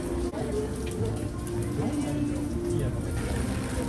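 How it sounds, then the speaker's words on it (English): Rain at Tokyo Disneyland keeps up a continuous hiss of drops on surfaces beneath a person talking nearby. "Right now it's still raining."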